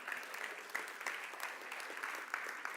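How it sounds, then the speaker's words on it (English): Warm audience applause for a volunteer player stepping up, a dense wash of many hands clapping evenly throughout, moderately loud, with no voices on top. "Would you please give him a round of applause?"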